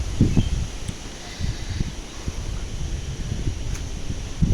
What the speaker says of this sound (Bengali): এত হাওয়া দিচ্ছে বলার মতো না দেখো না প্রচণ্ড হাওয়া